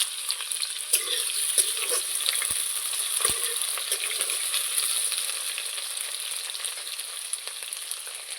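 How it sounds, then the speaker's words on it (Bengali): Cut potatoes fry in hot oil with whole cumin, a steady bright sizzle filling the space close up, broken by a few sharp pops and occasional stirring scrapes. "এখানে আলুগুলো কেটে রেখেছিলাম, সেগুলো হালকা হালকা ফ্রাই করে নেব"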